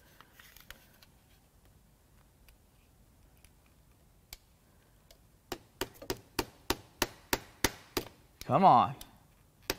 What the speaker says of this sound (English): We are hammering on a fuel pump while giving it voltage.